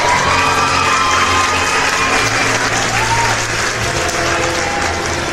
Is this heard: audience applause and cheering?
yes